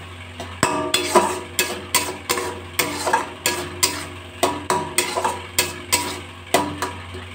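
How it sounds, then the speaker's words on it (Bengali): A spoon scrapes and stirs roasted coriander, cumin and fennel spice into an oil-free tomato, mango leather and date chutney in a pan, about fifteen evenly paced strokes over a low background hum. "একটু নাড়াচাড়া করে দিলাম।"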